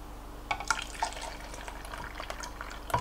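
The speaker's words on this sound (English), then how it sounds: "I'm going to pour out half, and then I'm going to stir it back around again" Liquid containing milk solids is poured into a measuring cup while making chocolate chip cookies, with soft trickling and a few light drips and clinks spread across the moment, close and fairly quiet.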